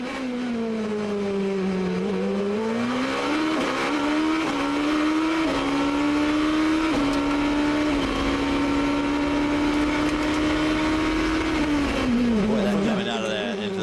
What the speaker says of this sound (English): You're mentioning the sound of the gear shift.